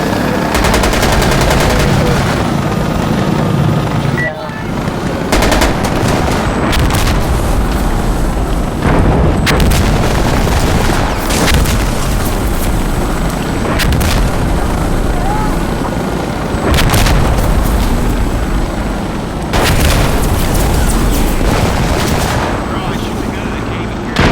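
Loud, continuous gunfire aimed at an attack gunship in Insurgency Sandstorm, with heavy bursts and booming impacts over a constant roar of helicopter rotors, and players shouting in brief bursts throughout.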